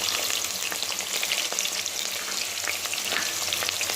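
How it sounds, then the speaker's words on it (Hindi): Cumin seeds and fried potatoes sizzle in a pan with a dense, continuous crackle, with light stirring and occasional pops, close and steady. "ये देखिए ज़ीरा डाल के भी अच्छी तरह हमने इसे भून लिया"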